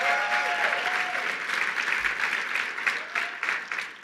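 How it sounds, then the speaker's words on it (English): Audience at a Human Rights Campaign gala in New York applauds a Legacy Award recipient, a dense, steady wash of clapping throughout that tapers slightly at the end. "Let's give him a round of applause."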